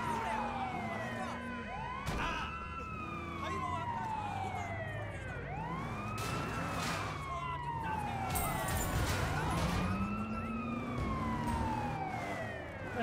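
A police car siren in the video game Sleeping Dogs wails in repeated rising and falling sweeps, loud and close, over street traffic noise, with brief bursts of other game sounds.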